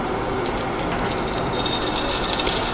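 Beef pieces laid into hot oil in a pan, giving a loud, steady, dense sizzle and crackle with no speech.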